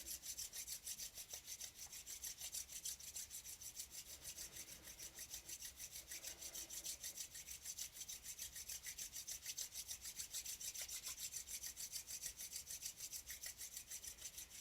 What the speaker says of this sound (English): And now rub the feet against each other and the hands against each other.